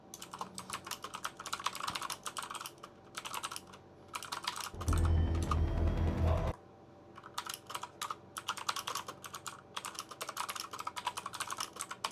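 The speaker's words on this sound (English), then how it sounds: "Just typing to the chat." Computer keyboard typing in a rapid, steady clatter of keystrokes, fairly close, with a short burst of louder broadband noise partway through and no talking.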